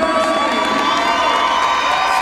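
Home crowd at a men's college volleyball senior day match cheering and whooping steadily, a loud, continuous roar of voices filling the gym.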